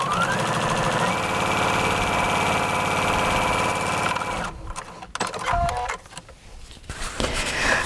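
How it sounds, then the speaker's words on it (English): A sewing machine stitches a seam in fabric with right sides out, its fast steady mechanical whir running continuously, then stopping and giving way to a few clicks and handling noises. "let's stitch this seam with the right sides out and the wrong"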